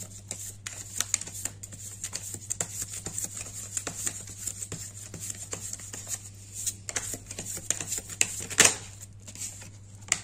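Oracle cards are shuffled in quick, light riffles and soft slaps, close and fairly quiet over a low steady hum, with no one speaking.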